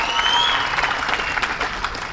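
Applause from a large audience at a Tamil movie audio launch, a steady, loud wash of clapping that holds for about two seconds, filling the hall with no voice over it.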